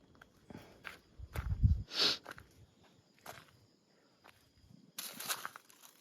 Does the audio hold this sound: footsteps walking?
yes